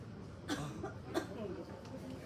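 A few short coughs come from a child, spaced apart, soft and close.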